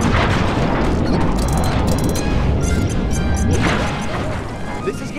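Bombs go off in the video game Sly 3 with loud booming crashes and debris clatter, several heavy bursts crowding together over a few seconds with no pause between them.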